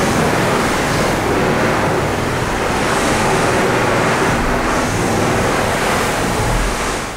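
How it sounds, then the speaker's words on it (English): Water rushes steadily past the hull of a fast sailing yacht, a loud, continuous broadband wash mixed with wind, with no voices. "you get this sort of rushing the water past the hull"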